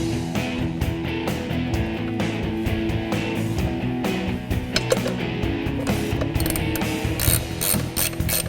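A ratchet wrench clicks rapidly while bolts are run in on a 1996 Mustang with a Coyote engine swap during driveline installation, loud close metallic ratcheting repeating in quick steady bursts.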